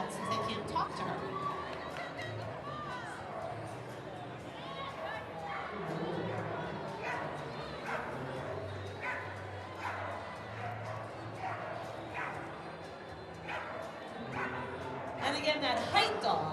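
Small dogs yip and bark in quick bursts during a flyball tournament relay at a kennel club dog show, heard at a distance over crowd chatter and a commentator talking.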